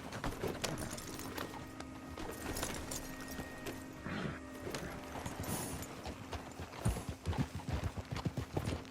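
Horse hooves clip-clop steadily as a rider travels in the video game Red Dead Redemption 2, a rhythmic trot over outdoor ambience that grows louder and more pronounced toward the end.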